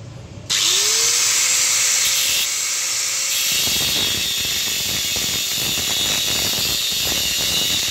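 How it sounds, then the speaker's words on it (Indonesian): Angle grinder spinning up and cutting into a car's broken rear leaf spring, a loud sustained whine that starts abruptly and then turns into a rough, gritty grinding roar, close and continuous. "Ini akan saya potong pakai gerinda."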